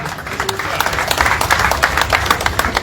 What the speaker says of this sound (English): Ladies and gentlemen, we applaud His Excellency.